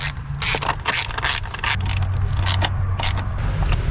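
Close clicking and ratcheting mechanical sounds come as a part snaps into place during valve cover reassembly on a Honda engine, with several sharp plastic snaps over a low steady hum.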